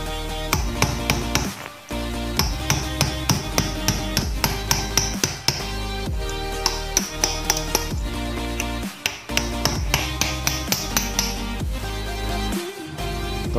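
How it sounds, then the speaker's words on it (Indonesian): A hammer strikes a chisel over and over to open the rubber cap of a YSS shock absorber from an N-MAX scooter, giving loud, sharp, close metallic taps in an uneven but steady rhythm, with music playing underneath. "Terus kita pahat"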